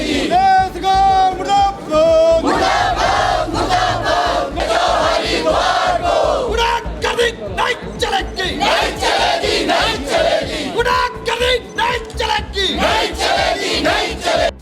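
Crowd at a BJP protest in Shimla chanting slogans loudly in rhythmic unison, voices rising and falling in repeated bursts, close and sustained throughout.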